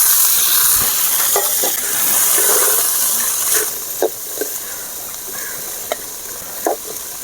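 Vegetables with green chillies, onion, tomato and cumin sauté in a couple of spoons of oil for soup, a steady sizzle broken by the scrape and clatter of stirring, with no talk.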